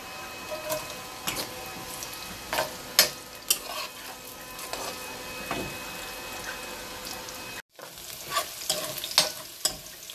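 Onion and cumin seeds fry in a pan for gajar ka bharta, a soft continuous sizzle with scattered spoon scrapes and taps, briefly cutting out near the end before resuming, no voices.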